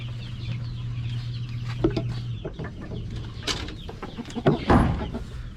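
Brown decaled chickens cluck and call near the mic in a farmyard, with short irregular bursts over a low steady hum and a louder squawk near the end.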